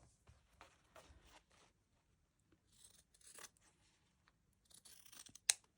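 Scissors snip through painted fabric, making several faint, close cuts in short irregular bursts with quiet pauses between them and a sharper final snip.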